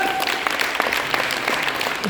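Audience applause fills a leadership conference hall in Dubai, a dense, steady patter of many hands clapping at once, loud and continuous for the whole stretch.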